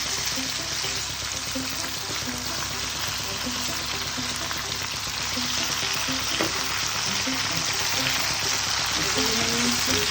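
Jujubes frying in oil with five-spice for a sweet jujube pickle, a loud steady crackling sizzle with scattered pops throughout, close up and without speech.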